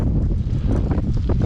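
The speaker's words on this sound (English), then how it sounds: "It's suddenly gone very windy" Strong wind buffeting the microphone during a spring bike ride, a loud, close, continuous low roar with gusty swells, with a voice talking beneath it.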